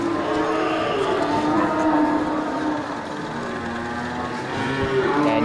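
Simmental cattle in an Aceh livestock pen low and mooing amid steady ambient noise and the clatter of the surroundings, one or more drawn-out calls rising over a busy, continuous background.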